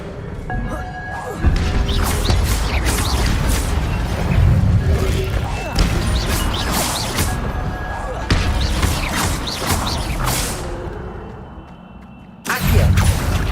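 Incendio fire spells are cast in Hogwarts Legacy combat, with repeated loud crashing bursts and thuds close up over busy battle noise, while voices shout throughout.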